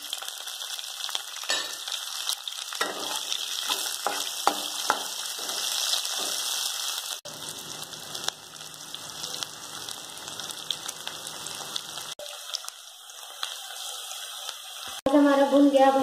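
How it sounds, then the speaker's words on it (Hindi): Chopped onions frying in oil with bay leaf and cinnamon, giving a steady, dense crackling sizzle that runs throughout, briefly shifting in tone midway, with a few sharper clicks and a faint voice near the end. "अब हम इसमें कटे हुए प्याज डालेंगे।"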